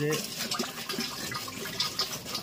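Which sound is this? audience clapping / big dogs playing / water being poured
water being poured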